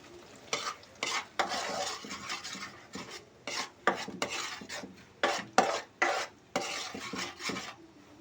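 Spices in oil for an egg curry are stirred in a pan, a close, rhythmic run of scraping and sizzling strokes with brief pauses between them, no talking.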